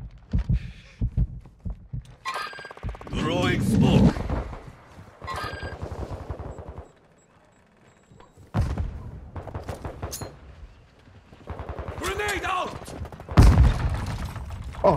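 Call of Duty gunfire crackles in rapid automatic bursts separated by short pauses, close and sharp, with in-game voices mixed among the shots.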